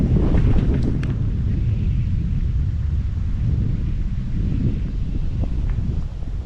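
Strong wind buffeting a microphone on a kayak out on Santee Cooper lake, a loud, steady low rumble and roar with no letup and no talking.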